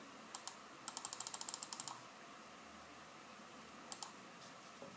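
Mouse clicks while working in Illustrator on a computer: a quick pair of clicks, then a rapid run of about ten clicks, then another pair later, crisp and close in a quiet room.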